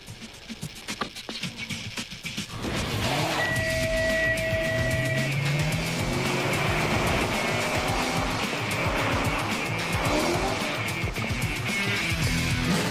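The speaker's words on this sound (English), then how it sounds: "we've got a great car, the SRT8. So let's give it a run." Dodge SRT8 setting off on a timed run from starter gates toward a slalom course, with quiet idle and clicks giving way to a loud, steady engine roar that holds as the car accelerates away and keeps driving.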